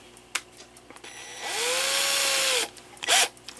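A rotary tool with a small burr grinds on a Regula 25 music box movement. One short, high whine spins up, runs for about a second and winds down, between a few sharp clicks and knocks.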